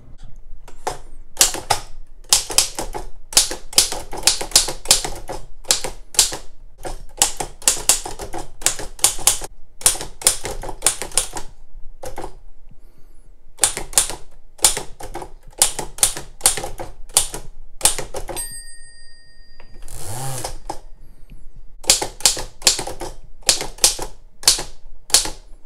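An Oliver No. 7 typewriter being typed on, with bursts of sharp mechanical key strikes in quick runs, separated by short pauses and a carriage return with a bell ding partway through, close and clear.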